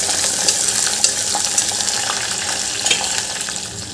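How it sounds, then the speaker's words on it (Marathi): Chopped onion sautés in a pan as the base for masale bhat, giving a steady close sizzle with faint stirring scrapes and no talking. "यामध्ये आपल्याला कांदा घालून घ्यायचा आहे आणि कांदाही थोडासा परतवून घ्यायचा आपल्याला"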